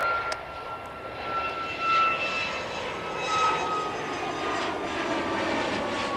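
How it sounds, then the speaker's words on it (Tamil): A Malaysia Airlines jet takes off at KLIA airport in Malaysia. Its engine roar holds steady and close, with a rising whine and swelling rumble, and no voices are heard over it. "ஐ திங்க் இதுவும் மாஸ் ஃப்ளைட் தான்."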